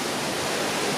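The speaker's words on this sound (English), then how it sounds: "we're here at Roaring Brook Falls." Roaring Brook Falls, a tall waterfall dropping about 350 feet, gives a dense, steady rushing roar of falling water, constant and loud, without any voices.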